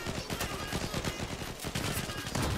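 Rapid gunfire from the Fateh rifle in the online shooter Zula, a dense, continuous stream of loud, closely spaced shots running through the whole stretch with no talking.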